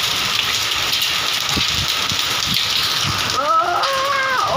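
Hailstones fall on a field in a steady, dense patter close to the listener, and a brief voice-like whistling cry rises near the end.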